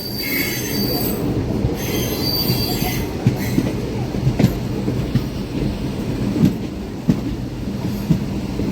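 The Visakhapatnam Express rolls past with continuous loud rumbling and high wheel squeal, with occasional clacks over rail joints throughout.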